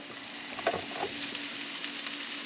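Green onions and sun-dried tomatoes frying in a pan over reduced heat give a soft, steady sizzle with a few faint stirring clicks, with no talk.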